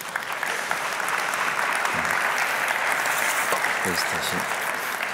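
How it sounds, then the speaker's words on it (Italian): An audience at a cooking show applauds the woman who makes the Corten steel serving plates, a steady full round of clapping with a brief spoken remark over it. "gli facciamo un applauso che sono bellissimi"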